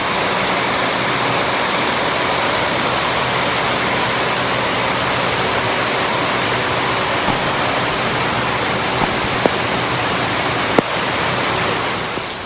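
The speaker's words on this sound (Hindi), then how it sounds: "बारिश झमाझम चालू हो गई पीछे।" Heavy rain pours steadily outside in a dense, even roar of hiss, close and loud throughout, with a few faint clicks and knocks and no one talking.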